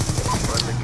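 Rapid gunfire from a submachine-gun-style weapon in the shooter game Black Ops 2, fitted with attachments and firing with little recoil: a loud, dense string of shots packed into under a second, with no pause between them.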